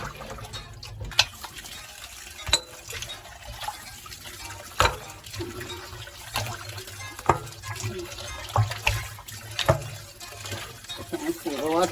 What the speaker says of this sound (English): I'll pour the water off it.